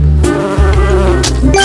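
A loud, continuous insect buzz from a bee in a brutal video game, droning steadily with wavering pitch throughout and no talk over it.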